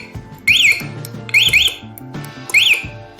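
A locked motorcycle's anti-theft alarm, triggered by shaking, sounds three loud rising-and-falling electronic warbles, each repeating in short bursts about a second apart with no talk.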